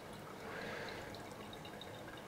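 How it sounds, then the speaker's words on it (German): Water poured from a watering vessel into a houseplant's pot during plant care, a soft steady splashing trickle that stays faint and even throughout with no talking. "Dann gießen wir jetzt hier mal wieder einen kräftigeren Schluck rein"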